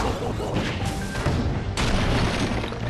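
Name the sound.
cannon firing in Skylanders video game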